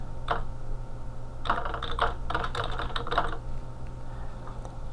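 Fingers tap out short, quick bursts of clicks on a computer keyboard while a password is entered during user setup in accounting software, with brief pauses between bursts over a low steady hum.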